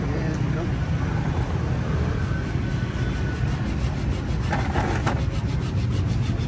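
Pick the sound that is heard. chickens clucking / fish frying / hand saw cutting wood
hand saw cutting wood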